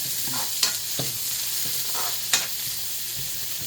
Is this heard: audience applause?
no